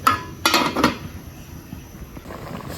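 A metal lid clatters onto a cooking pot holding a pickled bamboo shoot and fish curry, giving a few sharp clanks early on followed by quieter kitchen rattling.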